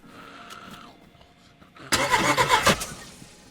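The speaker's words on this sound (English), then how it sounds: "now it's not starting to work because our spark plug is ruined" A car in DayZ with a ruined spark plug cranks but won't start, giving a burst of loud, rattling cranking at about two seconds that cuts out, after quieter background sounds.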